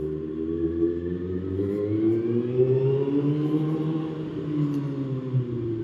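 A Kawasaki ZX-6R motorcycle engine revs inside a parking garage, a rising and falling harmonic whine that echoes off the concrete, steady and fairly loud with no talk.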